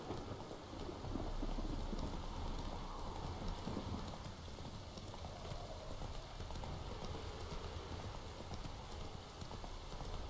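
Geralt's horse Roach runs in The Witcher 3, with fast, continuous hoofbeats under steady rain and low rumbling in the background, fairly faint and without talk.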